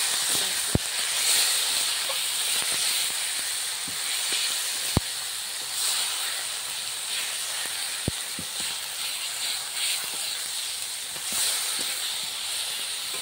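Spices for a fish curry, including red chilli powder, sautéing in a pan: a constant close hiss of frying with a few sharp clicks from stirring, no voices.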